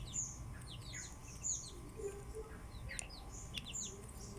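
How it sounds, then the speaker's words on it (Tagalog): Birds chirp and tweet in quick short calls over a low steady rumble in a backyard where a pigeon is feeding, the calls scattered and moderately near without any talking. "Kanino kayong kalapati to?"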